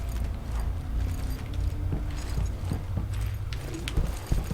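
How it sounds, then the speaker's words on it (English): Footsteps in the video game Hellpoint, a quick run of thudding, clip-clop steps like a galloping horse, moderately loud over a low ambient game drone. "You sound like a galloping horse at the moment"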